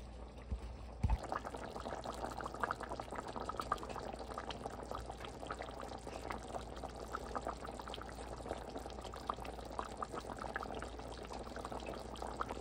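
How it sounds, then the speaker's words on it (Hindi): A mutton and potato shorba with cumin bubbles at a low simmer in a pot, a faint, even burbling that runs steadily throughout after a short knock near the start. "तकरीबन 1 मिनट हो गया शोरबे को पकते हुए ज़ीरे के साथ।"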